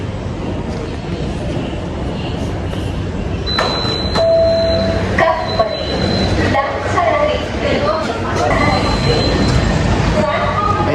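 An underground metro train runs with a steady, loud rumble and rolling roar throughout, broken by brief tonal beeps and door or chime sounds, with people talking over it.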